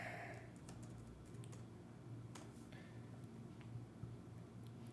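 Someone types on a computer keyboard while entering a note into an hour-tracking spreadsheet: soft, scattered key clicks over a low steady hum, close and without talk.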